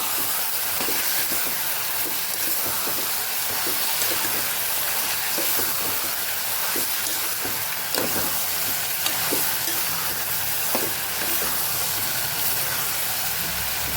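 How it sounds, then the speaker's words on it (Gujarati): Steady broadband sizzling of long beans sautéing in a pan with garlic chutney, with occasional soft stirring clicks over a continuous hiss. "હવે આપણે લસણવાળી ચટણી સાથે આપણે શાકને સાતળી લેવાનું છે"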